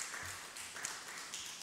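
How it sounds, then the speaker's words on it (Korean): A church congregation claps for its deacons during a Methodist Sunday worship service, a steady, fairly quiet wash of applause lasting the whole moment with no voices over it. "박수 한번 쳐줘 우리 집사들"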